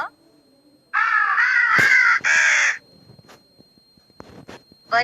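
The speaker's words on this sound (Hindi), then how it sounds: "कौआ" A crow gives two loud, harsh caws close by, each lasting under a second, followed by quieter clicks and faint rustling.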